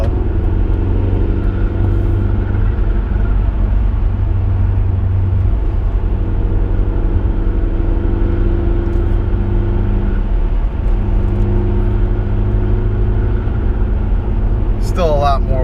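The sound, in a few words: Audi A4 with K04 turbo accelerating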